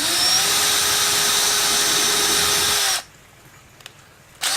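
Loud continuous whine of a power drill boring a bolt hole through a kayak hull for three seconds, then it stops, leaving near silence with a couple of faint knocks.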